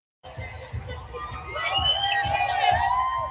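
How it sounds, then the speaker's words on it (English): Crowd cheering and whooping at the New York City Pride Parade, a loud, dense roar that swells and builds after a short lead-in, with shouts and rhythmic thumps underneath. "This is the New York City Pride Parade."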